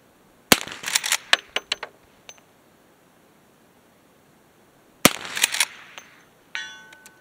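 Two separate shots from a Marlin 1894 .357 Magnum carbine at a shooting range, each a loud crack followed by a quick string of metallic rings and echoes, then a faint ding from a steel target hit.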